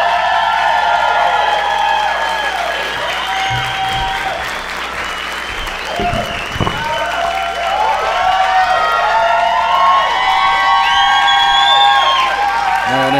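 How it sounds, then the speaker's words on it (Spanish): A comedy-show audience applauds and cheers loudly for a stand-up comedian taking the stage, with dense sustained clapping, whoops and shouts filling the room throughout. "Porque aplauden ahorita un chingo"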